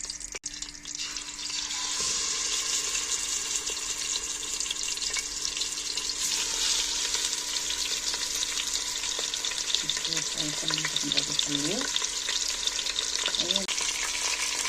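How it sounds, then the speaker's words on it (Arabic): Chicken goes into hot oil in a home kitchen and starts a loud, steady sizzle and crackle that carries on. There are faint clinks of utensils near the end. "خليها تحمى ونديرو الدجاج"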